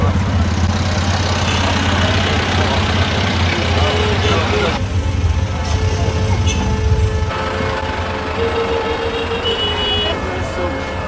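Engines of cars, buses and trucks idle in a traffic jam mixed with animal traffic, a steady low rumble with occasional toots, while people talk nearby.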